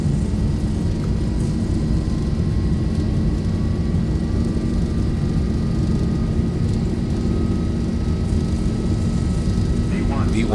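Boeing 737-800 takeoff roll in the X-Plane 11 flight simulator, a loud continuous engine roar with rising whine tones over rumbling wheels, holding steady throughout.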